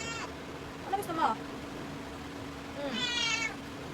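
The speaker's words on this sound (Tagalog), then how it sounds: "Umiyak yung aking pusa." A cat meows a few times, close by, with short plaintive cries separated by a brief pause.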